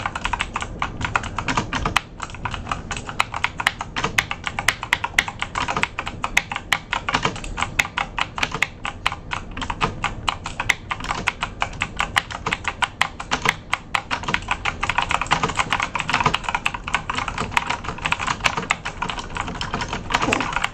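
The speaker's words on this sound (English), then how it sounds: "I'm playing around with my keyboard." Rapid clattering of computer keyboard keys, continuous dense typing up close for the whole stretch with brief pauses, no speech over it.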